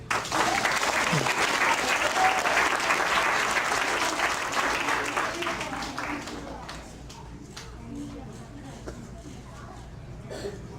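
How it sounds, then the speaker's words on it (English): A school crowd applauds a student award, loud dense clapping at first that gradually thins into scattered claps, with some voices and faint talk underneath as it fades. "how about another giant round of applause for all of Mrs. Gautier's class"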